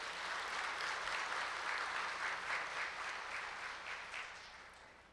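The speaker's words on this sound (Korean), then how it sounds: "오늘 행사를 힘차게 시작할 수 있도록 뜨거운 박수 부탁드리겠습니다" Sustained applause from an audience at the 2019 Global Standard Management Awards ceremony in Korea, a dense, steady wash of many hands clapping that swells slightly, then gradually fades toward the end.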